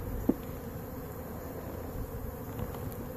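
Honeybees in an open, healthy beehive give a steady, low hum with a brief louder tap near the start, continuous and fairly close, with no talk.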